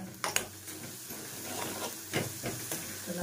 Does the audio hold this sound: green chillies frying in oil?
yes